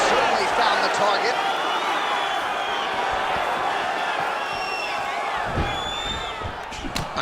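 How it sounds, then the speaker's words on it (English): Crowd in a UFC video game on PS5 rising in a cheer after a punch lands, a dense roar under continuous commentary, with a few sharp impact thuds near the end. "Another punch lands, and that gets a pop from the crowd."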